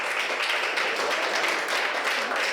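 Dense, steady applause from an audience at a communal election results announcement in Orbe, honouring an elected official, continuous and fairly loud throughout with no pauses.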